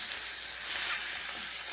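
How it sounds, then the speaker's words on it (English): Mushroom chunks frying in melted butter in a pan, giving a steady, fairly loud broadband sizzle that holds throughout with a slight swell midway as they are stirred. "I tossed in a couple big old chunks of butter. And just let that butter cook right into these guys"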